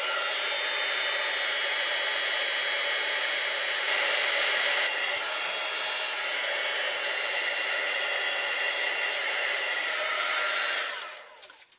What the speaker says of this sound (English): now I'm going to go ahead and heat set this with the heat tool gun.